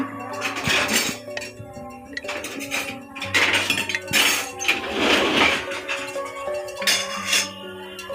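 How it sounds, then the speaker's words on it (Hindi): A metal spoon clinks and rattles against a cooking pot in repeated sharp bursts, close and fairly loud, with some scraping between hits. "चम्मच निकाल लेती हूँ, भूल गई निकालना"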